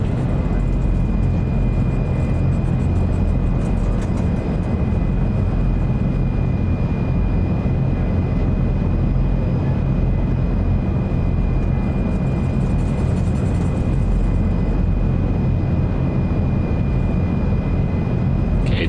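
Azurpoly C-160 twin-turboprop transport taking off in Microsoft Flight Simulator 2024, a loud, constant engine roar with a steady high tone running throughout and no speech.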